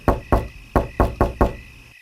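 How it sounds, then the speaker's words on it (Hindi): Six sharp knocks on a house door late at night, struck in two quick groups with short pauses between, close and loud against a quiet background. "जब सर्रो दाई के घर पर किसी ने दस्तक दी।"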